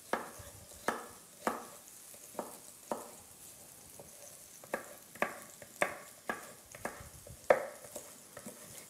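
Onion fries in a pan under a low sizzle, punctuated by a steady series of sharp scraping stirs roughly every half second, close and fairly quiet, with no voices.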